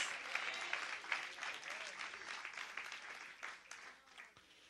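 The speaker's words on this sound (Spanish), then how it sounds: "Fuerte el aplauso." Church congregation breaking into loud sustained applause, dense clapping from many people that swells early and gradually fades toward the end.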